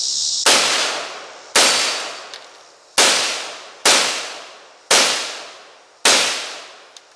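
Six loud, sharp gunshots from a Bushmaster Arm Pistol, a low-budget arm-braced firearm, spaced about a second apart outdoors, each with a quick decaying echo and no talking.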